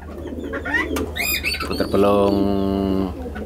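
A pair of pelung turtle doves coo nearby, a sustained harmonic coo standing out in the middle of the clip after a few brief chirpy calls, with no talking.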